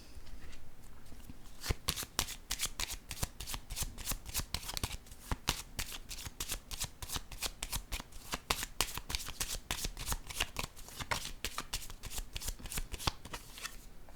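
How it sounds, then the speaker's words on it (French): Playing cards are handled, shuffled and laid down on a surface, making crisp repeated flicks and slaps close by in a quick, irregular rhythm throughout. "Je vais déposer une autre carte."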